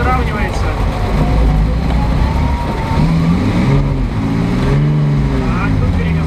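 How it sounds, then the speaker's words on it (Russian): A car engine revs hard and loud through a driving exercise on a training course, the pitch rising and falling continuously as the car is pushed, with voices talking over it. "Так, тут перегазовал."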